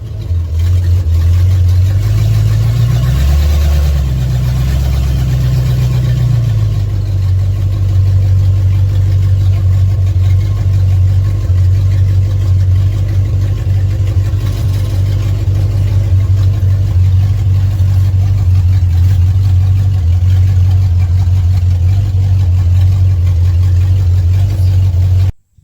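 The 318 V8 of a 1971 Dodge B200 van drones loud and continuous while being driven, with a brief rise in revs near the start before settling into a steady low rumble.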